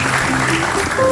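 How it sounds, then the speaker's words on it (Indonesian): Studio audience applause on an Indonesian TV talk show, a steady dense wash of clapping filling the whole moment at close, loud level, with a faint voice underneath. "Give me applause."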